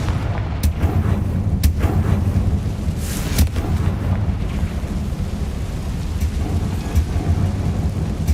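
A Confringo fire spell blasts in the Hogwarts Legacy video game, giving rumbling, explosive booms with a few sharp cracks over a dense, continuous roar.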